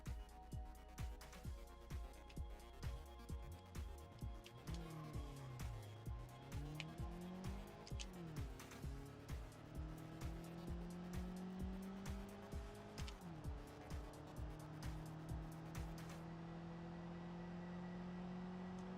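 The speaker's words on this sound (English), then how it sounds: "Definitely not the fastest car on the track." Racing-game car engine revving and shifting through repeated gear changes, with rising and falling pitch sweeps and occasional tire squeal, steady and fairly loud with no talking.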